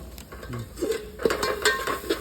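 Chicken masala and salt being mixed in a pan for chicken curry, a spoon scraping and clinking against the metal in a busy, uneven rhythm with a faint sizzle underneath, fairly close and without speech.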